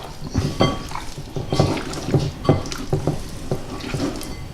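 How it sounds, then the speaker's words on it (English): Chicken wings being worked through flour in a bowl, giving rhythmic clacks and scrapes against the bowl, about a dozen close knocks at an uneven pace with nobody talking. "So just add the flour a little bit at a time, mix it in."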